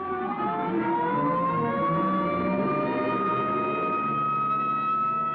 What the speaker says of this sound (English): here comes an ambulance out